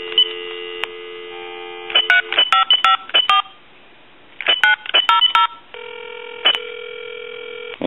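Telephone dial tone hums steadily, broken by two quick bursts of touch-tone dialing beeps to a time-and-temperature number, then the tone returns; loud and close over faint mains hum.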